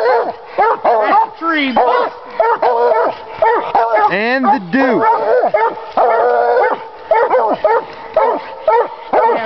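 Coon hunting dogs bark and bay at a tree in loud, overlapping bursts with drawn-out howls and yips, close by, while someone speaks briefly over the clamor.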